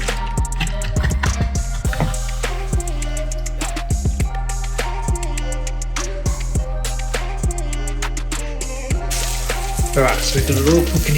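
Bacon sizzles in a frying pan beside eggs in a home kitchen, a steady crackling hiss with scattered sharp clicks and clatter throughout.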